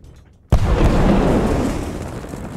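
An explosion in the video game Totally Accurate Battle Simulator hits suddenly after near silence, a loud booming blast followed by a dense, rumbling roar that slowly fades.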